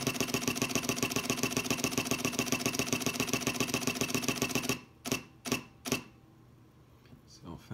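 A Pentax K-3 Mark III fires a rapid continuous-shooting burst in AF-C, its shutter clattering at an even fast rhythm for several seconds, then a few slower separate clicks follow as the RAW plus JPEG buffer clears.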